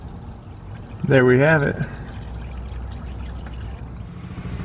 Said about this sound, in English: Oil is nearly done draining